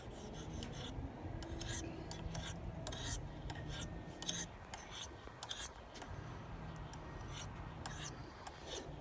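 Knife being sharpened with a repeated rasping scrape of blade on stone, a series of short strokes up close over a low background rumble, with faint talk.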